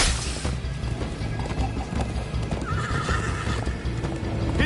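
Galloping hoofbeats pound steadily while a horse neighs in Minecraft, with crashing game effects and music in the background.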